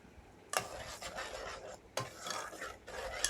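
A spoon stirs tamarind water into egg gravy in a cooking pot, making three quick scraping, sloshing strokes that sound close and fairly quiet.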